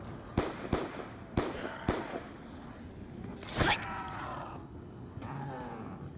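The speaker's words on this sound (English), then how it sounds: "Why does it take so many shots to your face?" Gunshots in the Black Ops 2 Zombies video game: four sharp, loud reports in quick succession followed by a heavier blast, over a steady background of game noise.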